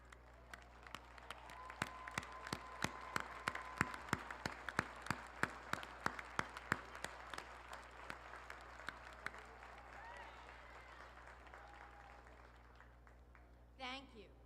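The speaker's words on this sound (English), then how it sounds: "Please rise for a round of applause." Scattered, sparse hand claps from a university commencement audience, individual sharp claps spread out over several seconds, fairly faint in a large hall, with a brief voice near the end.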